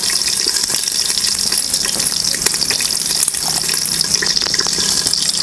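Fresh coriander is rinsed under a running kitchen tap while making a spicy brinjal chutney: a loud, steady gush of water splashing without pause, close up, with no voices.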